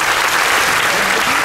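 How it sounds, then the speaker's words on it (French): An audience aboard a cruise ship claps in loud, dense applause that holds steady through the brief moment, with no voices rising above it. "Ça s'applaudit."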